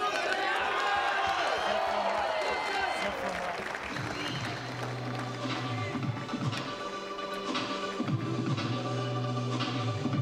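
A raucous home crowd at a London 2012 Paralympic wheelchair tennis match chants and shouts for Gordon Reid of Great Britain, loud rhythmic chanting over broad crowd roar that fills the space.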